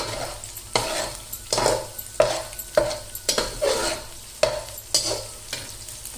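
Egg fried rice ingredients frying in hot oil, with a steady sizzle broken by repeated rhythmic stirring scrapes of a spatula in the pan, close and fairly loud, no talking.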